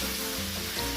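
Aromatics sautéing in a pan for chicken tinola, a dense, even sizzle filling the whole second close up, with no voices.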